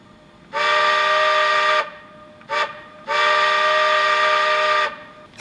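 A steam whistle voice for N&W locomotives, played from a BLI model locomotive's TCS sound decoder through a flat speaker: two long, steady chime blasts split by a short toot, loud and clear with no talk.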